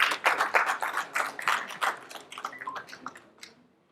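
A crowd at a Kerala film press meet applauds to welcome a director, a brisk patter of many hands that thins out and fades away within a few seconds.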